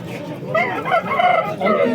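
A rooster crows amid the busy Qumtepa poultry market in Fergana, Uzbekistan, with chatter and other fowl noise around it; the call rises in a few strained bursts.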